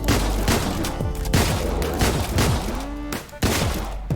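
Gunfire in the video game Deadbolt: a loud, dense burst of repeated shots with booming low thumps at irregular intervals across the whole stretch, with no voices over it.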